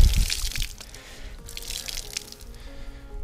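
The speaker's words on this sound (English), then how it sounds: "Give that a quick rinse off." Water from a hose or tap rinses a dirty car wheel during a hand wash, giving a steady close splashing and dripping with small trickles and spatters and no talk.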